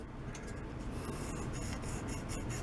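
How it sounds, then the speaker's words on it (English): The cutting edge of a wire cutter rubs back and forth on a sharpening stone, a faint, close, gritty scraping in quick repeated strokes. "and then just rub it back and forth, going up and down that whole length of that cutting edge"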